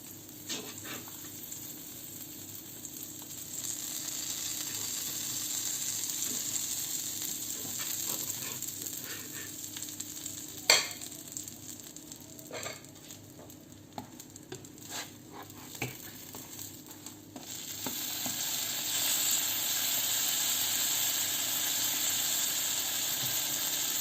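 Butter for French toast sizzles and hisses in a pan, a soft continuous frying crackle with scattered pops and scraping, fairly quiet and steady for the whole stretch.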